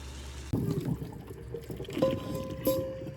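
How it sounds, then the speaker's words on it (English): Water dripping and trickling off a HexClad pan after a couple of years of use, with a short splash followed by a few soft drips and faint ringing tones, close and fairly quiet. "That's how well it drips off the water."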